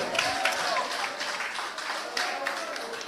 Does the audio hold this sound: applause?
yes